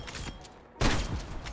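A sniper rifle fires once in Black Ops Cold War, a sudden loud broadband crack that cuts in after a quiet moment and rings out into a sustained noisy tail, with faint game background sounds before it.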